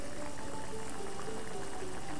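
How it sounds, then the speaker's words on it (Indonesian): Tofu and vegetable stir-fry broth simmering at a steady boil as cornstarch solution thickens it, a faint continuous bubbling and hiss with no voices. "Larutan maizena dimasukkan saat kuahnya sudah mendidih."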